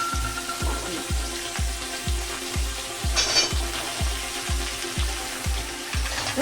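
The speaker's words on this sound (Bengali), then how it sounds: "এবার আমি আলুগুলোকে ভেজে নিচ্ছি" Potatoes and vegetables fry in oil with a constant sizzle, broken by a regular series of low rhythmic knocks, likely a utensil stirring against the pan, close and moderately loud.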